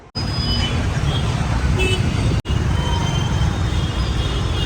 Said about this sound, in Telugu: ఏం ట్రాఫిక్ రా అయ్యా.